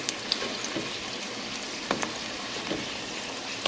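Small pieces of food frying in a pan give a steady, close sizzle, with a few soft clicks and scrapes from stirring or flipping.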